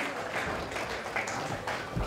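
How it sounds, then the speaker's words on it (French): At an awards night in Madrid, an audience applauds with a faint, diffuse wash of clapping that continues steadily throughout, heard from some distance with light background murmur. "Veuillez applaudir pour elle, s'il vous plaît"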